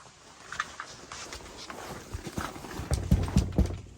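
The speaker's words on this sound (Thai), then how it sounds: "ได้ยินเสียงเดินขึ้นบ้านนะครับ" Footsteps climb up into a Karen house at night. Dull, heavy thuds start faint and grow louder and closer toward the end, over low background noise.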